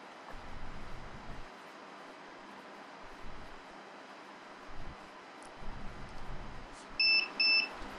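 Two short electronic beeps sound near the end, following a stretch of low machine hum and faint rumble from a CNC laser cutter confirming a finished job.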